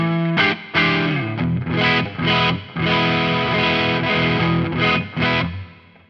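Overdriven electric guitar run through a pedalboard, playing a dirty blues tone with repeated chords and bends, sustained and loud with short breaks between phrases before a final fading note.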